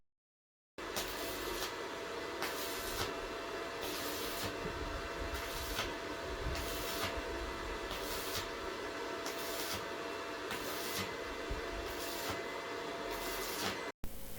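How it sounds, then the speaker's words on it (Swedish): Continuous electric welding on a homemade chimney pipe, a loud, steady crackling hiss with a regular pulsing rhythm that runs unbroken for most of the clip and ends abruptly. "Bättre jag svetsar kostar ingenting. Nu jag börjar svetsa."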